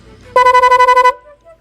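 A loud, rapidly pulsing electronic car horn tone, chopped by an adjustable relay interrupter at its fastest setting, about ten even bursts in under a second, then cutting off abruptly.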